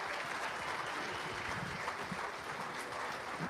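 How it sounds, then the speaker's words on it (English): A soft, distant round of audience applause for a radio station at a high school football recap event, a steady wash of clapping for a few seconds with no voices. "let's give WHBC a round of applause for everything they do"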